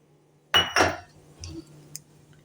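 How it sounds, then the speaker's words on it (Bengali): Chopped cashews and almonds go into a hot pan for roasting with two sharp, close rattling clatters, then a few fainter knocks and clinks in a quiet kitchen. "এখানে কাজু আর আলমন্ড কেটে রেখেছি, এটাকে একটুখানি রোস্ট করব।"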